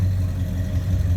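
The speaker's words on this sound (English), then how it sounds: "With some more V8 noises, right?" A V8 car engine with titanium exhausts idles at a busy car meet, a steady low rumble running throughout at close range with no voices.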